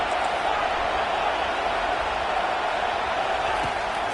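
Stadium crowd at an Auburn vs Alabama college football game, a steady, dense roar of many voices filling the whole space without pause, loud and continuous with no distinct cheers standing out.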